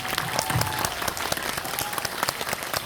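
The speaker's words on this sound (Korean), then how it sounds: "여러분들 박수 한번 크게" A packed cinema audience at a fan screening and guest talk claps loudly for the writer, with sharp, dense hand claps forming a steady roar and occasional crowd cheers mixed in.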